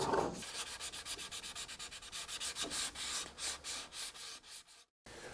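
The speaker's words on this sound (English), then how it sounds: "Once you have the bulk of the pattern sanded flat, carefully flat and smooth any details and corners." A fibreglass composite pattern with a primer coat is sanded flat by hand, with about a dozen steady, rhythmic, close rasping strokes and no other sound.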